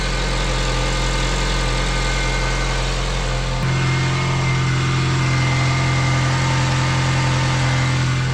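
A project car being readied for a turbo build idles steadily, its engine note a constant low rumble with continuous vibration, closely recorded and alone with no talk; the idle shifts slightly deeper partway through.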